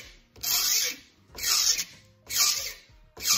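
A file rasps across the edge of a plastic egg holder clamped in a vise, four evenly spaced strokes, each a close harsh scrape separated by brief pauses.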